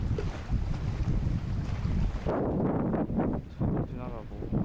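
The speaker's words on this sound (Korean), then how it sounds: "바람이 너무 많이 부는데 여기는" Strong wind at a lakeside bass fishing spot at Daecheong Lake, loud rumbling gusts buffeting the microphone close up, easing slightly partway through.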